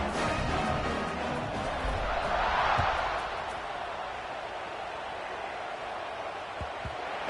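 Stadium crowd in an American football video game keeps up a steady, loud roar around a kickoff, swelling briefly before settling back to a constant wash of cheering.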